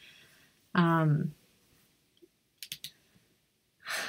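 A few light, hollow clicks from a Mac keyboard typed on with its plastic cover still on, coming after a brief voice and followed by a soft burst of noise.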